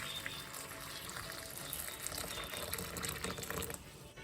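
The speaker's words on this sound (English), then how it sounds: "add some hot boiling water to the mixed veg here." Hot boiling water poured over frozen mixed vegetables in a kitchen: a continuous, fairly quiet gushing pour with splashing that keeps up steadily and tails off at the end.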